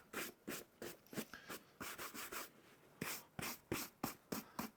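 Rhythmic scrubbing strokes rub dirt off a pair of Salomon Jungle Forces boots, a brisk series of short, close, gritty brushing sounds in steady succession with no talk.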